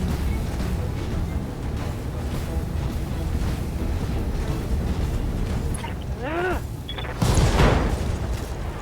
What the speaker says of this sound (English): Behemoth is going to go over there and punch this spider